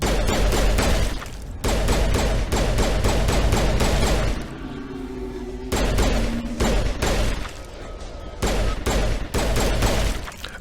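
Rapid automatic weapon fire from the Mass Effect video game roars almost nonstop, loud and dense, in long bursts broken by a few brief pauses.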